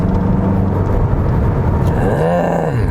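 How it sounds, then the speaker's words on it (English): A Mazda 6 diesel sedan engine runs steadily with a deep, continuous rumble, rising briefly in pitch near the end as it revs. "you could really hear the diesel engine"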